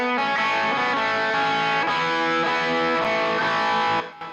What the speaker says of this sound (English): I have the Tube Screamer emulation giving me a little bit more dirt.